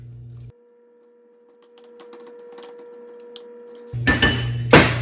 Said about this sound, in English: I'm just going to mash up my jackfruit and white beans